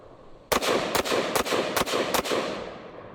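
Desert Eagle pistol firing 350 grain full metal jacket rounds, six loud sharp shots in quick succession about half a second apart, each echoing into the next, with no talk.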